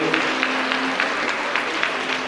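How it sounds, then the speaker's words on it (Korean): Wedding guests at a main ceremony applaud the parents of both families: a thick, continuous wash of clapping from a large seated crowd, steady in level throughout the short stretch. "다시 한번 양가 부모님께 감사의 박수 보내주시기 바랍니다"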